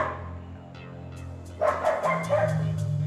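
A dog in an airport kennel lets out a short series of several barks over a steady low hum of the terminal, mid-distance and moderately loud.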